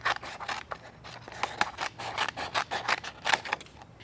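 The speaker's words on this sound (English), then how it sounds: "there's a flap, which we're just going to snip off" Scissors snip through thick cardstock to cut away a flap, a close series of crisp, uneven cutting and rubbing strokes with no talking.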